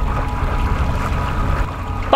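A homemade electric-motor surf paddleboard rigged for lure fishing runs at full throttle on water. It makes a steady low churning rumble of water and motor that holds even for the whole stretch.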